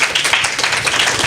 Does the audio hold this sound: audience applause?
yes